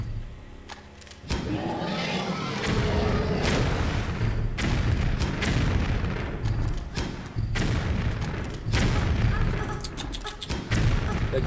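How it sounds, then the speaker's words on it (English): Grenade launcher firing during a boss fight in Tomb Raider 3 Remastered, Crash Site level: loud, repeated booming blasts in quick succession, with game noise and occasional talk over them. "I'm gonna use the grenade launcher."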